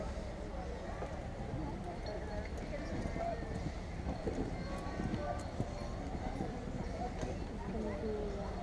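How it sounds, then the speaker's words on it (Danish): A horse gallops with steady hoof beats as a knight rides at a quintain to strike a shield at a medieval festival in Aalborg, the hooves heard at a distance beneath continuous crowd noise and an announcer talking. "en ridder også er god til, det er at ride mod kvintalen i midten og ramme et skjold"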